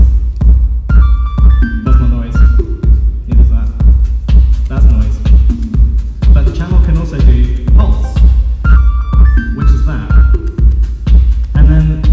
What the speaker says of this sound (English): there's two other channels which do noise